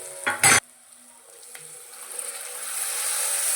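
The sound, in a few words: frying masala paste with coriander and curry leaves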